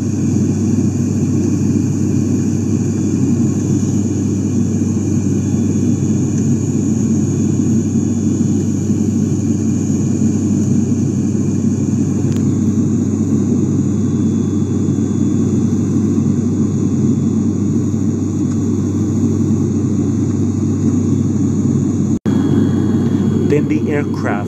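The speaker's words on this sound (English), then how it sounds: "Then the aircraft reaches cruising altitude." Airliner engines droning in the TFS flight simulator game, a steady loud cabin rumble and hum continuing without break, with a voice talking over it.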